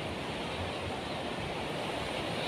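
Waves break at Pantai Muara Rejo beach in Depok, heard as a steady, even surf wash with no distinct single breakers, fairly soft and continuous throughout.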